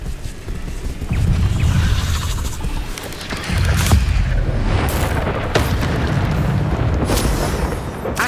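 Incendio fire spell in Hogwarts Legacy, a sustained roaring, booming blast of flame with rumbling low-end surges and crackling bursts layered over continuous combat noise, loud and close.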